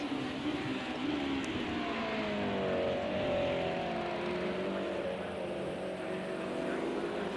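BMW M1 Group A race cars circle the Silverstone International track, a faint, steady engine drone with slowly shifting pitch, heard from a distance and without talk.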